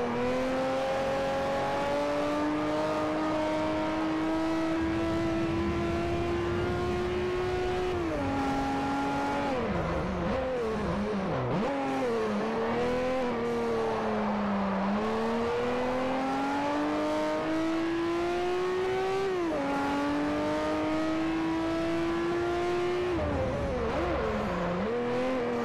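A race car engine in Forza Motorsport 4 revs loud and steady, its pitch climbing through gears with sharp dips at each shift and a few downshifts, sustained for the whole stretch with no voices.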